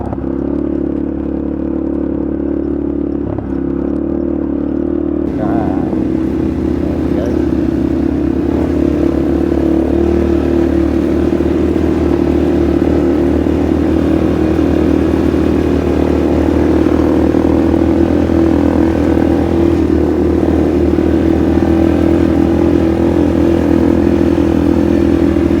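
An ATV engine drones steadily along a palm plantation trail near Johor Bahru, Malaysia, a loud, close, continuous motor hum with rattles and clatter from the bumpy ride and no talking.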